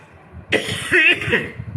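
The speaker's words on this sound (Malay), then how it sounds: "dah batuk pula dah." A single harsh cough-like burst, close and fairly loud, lasting about a second with a rough throaty edge, and no talk around it.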